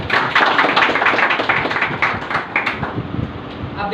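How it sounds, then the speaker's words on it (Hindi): An audience claps at a public talk, a dense burst of many hands that swells early and then thins out over a few seconds, with some voices underneath. "बैठिए, ताली बजाइए।"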